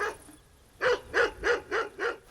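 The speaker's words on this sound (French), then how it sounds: "Il y a le chien qui a répondu là." A dog barks back across a valley in reply to calls during a wolf alert, five evenly spaced, clear barks at moderate distance after a quiet start, with no talking.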